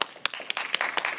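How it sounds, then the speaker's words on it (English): A debate audience claps for a debater in a short burst of scattered applause, a few hands striking irregularly at close range. "Let's give him a round of applause."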